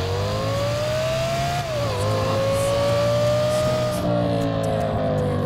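An Alfa Romeo Stelvio engine roars in GTA 5, a loud, sustained drone that dips briefly as the pitch shifts, then holds steady as the car keeps accelerating.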